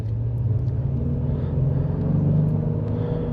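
A 2024 Honda Passport Black Edition AWD SUV pulls away with a steady low engine rumble and smooth whir from inside the cabin, evenly loud and continuous without any sharp revving peaks.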